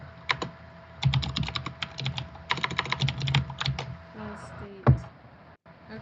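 Rapid bursts of computer keyboard typing, close and clicky, come in uneven clusters with short pauses while a person speaks quietly between keystrokes.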